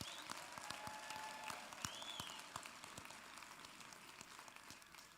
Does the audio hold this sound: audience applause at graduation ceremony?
yes